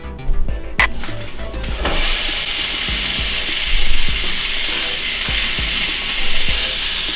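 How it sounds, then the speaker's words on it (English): Steady, bright sizzle of a pound of stew meat frying in a pan, with occasional clinks and scrapes of a utensil breaking it apart, close and continuous with no talking. "Cook 1 pound of stew meat for 5 minutes or until it's completely cooked through"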